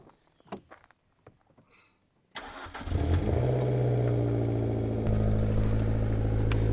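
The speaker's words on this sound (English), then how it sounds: "But let's get back into the car and give you guys a cold start." Fiat car with an El Dado exhaust and bigger turbo cold-starting outdoors: quiet handling noises, then a sudden crank and catch into a loud, steady idle with a slight step up in revs near the end.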